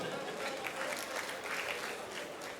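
A comedy show crowd claps for a woman introduced from the audience, a dense, continuous patter of many hands heard at a distance.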